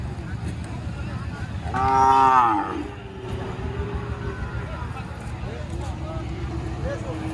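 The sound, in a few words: cattle mooing at a cow market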